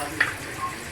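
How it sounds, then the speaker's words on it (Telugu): Fish frying in oil in a pan over medium flame, a steady close sizzle with a brief sharp crackle near the start. "కొంచెం ఆయిల్ పోసి ఫ్రై చేయండి"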